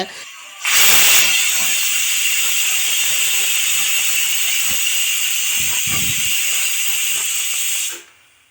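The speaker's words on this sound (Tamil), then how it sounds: "மூடியை போட்டு விசில் வச்சு எடுத்துக்கிறோம்" Pressure cooker whistle on a stove while cooking radish and drumstick sambar, a sudden loud hissing blast of steam that holds steady for about seven seconds, then cuts off abruptly.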